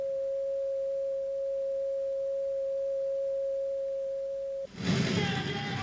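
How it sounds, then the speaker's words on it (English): A steady pure sine-wave tone at a higher pitch holds evenly for almost five seconds, then cuts off abruptly and gives way to a brief burst of broadband noise. "And this is a higher frequency sound."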